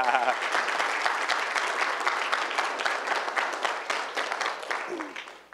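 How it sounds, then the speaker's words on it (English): Attendees at a city council meeting applaud an assistant fire chief, a lively round of crisp, distinct claps that rises quickly and gradually thins out, with a brief voice near the start. "Right now would be a good time for a round of applause."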